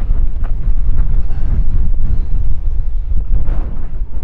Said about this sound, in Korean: 근데 바람이 많이 불어서